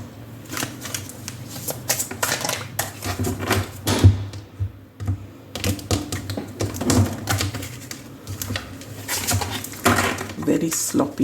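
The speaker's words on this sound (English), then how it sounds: "Very sloppy shuffle there." Tarot and oracle cards from the Hidden Truth Oracle deck are shuffled by hand in uneven, sloppy bursts of riffling and tapping, close and fairly loud, with birds cooing faintly in the background and occasional talking.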